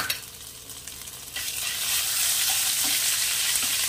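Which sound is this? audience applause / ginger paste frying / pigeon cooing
ginger paste frying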